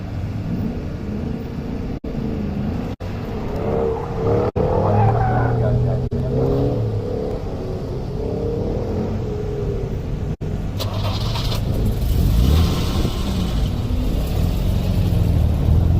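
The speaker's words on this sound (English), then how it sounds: "Sound of an E-Type taking off." A Jaguar E-Type revs and pulls away at an SCCA autocross, its engine note rising and wavering through the gears. Wind buffeting and a few sharp clicks sit over it, with faint voices in the background.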